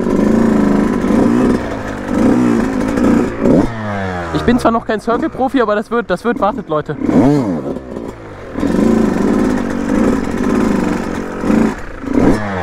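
A motorcycle engine started and revved, recorded from a helmet-mounted camera microphone, rising in bursts of climbing and falling pitch in the middle with steady idling before and after, loud and close while someone talks over it.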